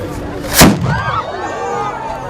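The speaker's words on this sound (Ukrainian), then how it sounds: "Залпи козацької гармати сповістили про початок свята." A single deep Cossack cannon blast booms out at the opening of a festival, loud and close, followed by a rolling echo and faint background chatter.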